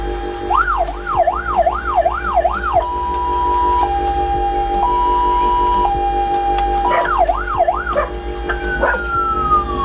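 An electronic police siren fitted in a tow truck cycles through wailing and yelping tones, then steady beeps and a return to the warble, loud and close with no talking.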